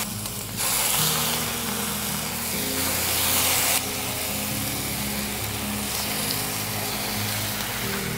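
Bacon sizzling in a hot pan, a loud steady hiss and crackle that swells briefly and then settles into a continuous frying sound with no talking.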